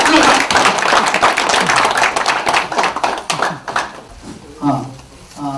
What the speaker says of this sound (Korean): 한번 격려 박수를 거듭 부탁드립니다